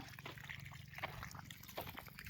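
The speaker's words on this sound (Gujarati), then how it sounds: "જો અહીંયા પાણી ચાલુ છે" Water runs in a faint, steady trickle, with soft splashes and nothing else standing out.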